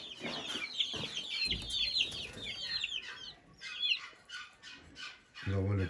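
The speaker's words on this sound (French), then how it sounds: "Nous avons les petits poussins brahma ici." Small Brahma chicks on a farm peep and chirp in a busy, overlapping chorus of high, rapid calls, close by, with a brief thump and low rumble near the end.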